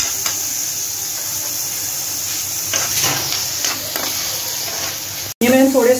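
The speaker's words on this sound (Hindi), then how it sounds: "अब मैं आलू डाल दूँ, इनको मैं करूंगी फ्राई" Potatoes fry in oil in a pan, a steady close sizzle and hiss running throughout, with a brief break near the end.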